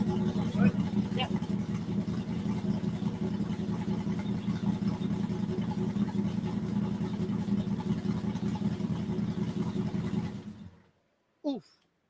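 A car engine fitted with Comp stage 3 blower cams idles with a loud, steady, lumpy rumble for about ten seconds, then cuts off abruptly, leaving near silence and a brief faint sound at the end.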